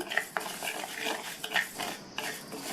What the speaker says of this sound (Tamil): இப்போ இந்த உளுந்தை வந்து வறுத்துக்கலாம்.